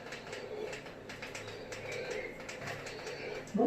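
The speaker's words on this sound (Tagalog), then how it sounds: "ang tunog niya parang ano siya, nasa forest na talagang kuwago siya" An owl-shaped essential oil diffuser toy plays a soft hooting, cooing call amid faint forest-like ambience, quiet and repeated, with a brief clatter at the end.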